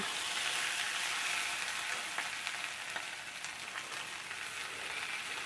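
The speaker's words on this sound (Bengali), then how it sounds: "এরপরে আবার গ্যাসের ফ্লেমটা কম করে এটাকে কিছুক্ষণ ভেজে নেব" Onions frying in a pan over a low gas flame, a steady close hiss and crackle of oil throughout, with a few faint stirring scrapes and no talking.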